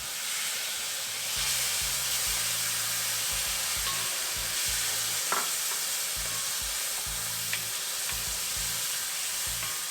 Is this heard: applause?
no